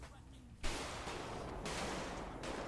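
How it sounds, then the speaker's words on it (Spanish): Dense bursts of GTA V gunfire break in after a quiet moment, heavy and sustained with brief lulls, loud and close. "cómo suenan los tiros"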